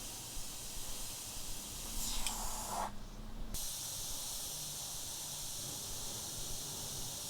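An Eclipse airbrush with a 0.35mm needle and nozzle sprays thinned paint at low PSI, giving a soft, continuous hiss that runs steadily throughout at a faint level.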